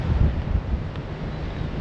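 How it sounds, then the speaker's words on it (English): Strong wind buffets the microphone on a wild coastline, a constant low roaring rush with no letup, loud and close throughout. "It's really windy here today."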